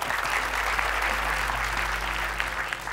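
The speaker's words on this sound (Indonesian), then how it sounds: "Boleh tepuk tangan dulu dong." Studio audience applauding on a talk show, steady dense clapping throughout at full level with a low hum underneath.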